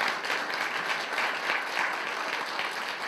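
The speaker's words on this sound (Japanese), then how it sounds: "4人の登壇者の方にぜひ最後拍手をお願いいたします。" An audience at an NPO emergency meeting claps steadily for the four panel speakers, a dense continuous round of applause lasting about three seconds with no talk.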